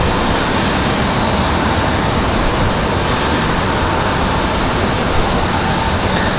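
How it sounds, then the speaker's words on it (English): An American Airlines A321 jet at Raleigh Durham International Airport, a loud steady broadband engine roar that holds constant throughout, with no voices. "we got an American Airlines A321 getting ready to head back to Charlotte here in just a moment"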